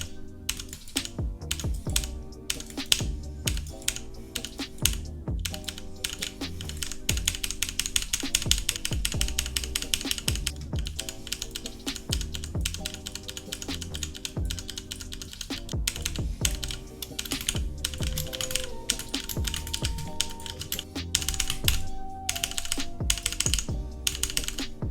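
Rapid typing on a Bluetooth mechanical keyboard with red switches, a dense run of close, clacky keystrokes in quick bursts with brief pauses, carrying on steadily alone.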